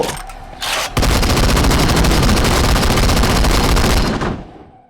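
Rapid automatic gunfire in the zombie shooter Into the Dead 2, a loud dense burst of shots lasting about three seconds after a brief lead-in, then cutting off and trailing away.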